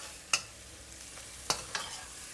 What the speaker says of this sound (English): when it's boiling like this, just give it a good mix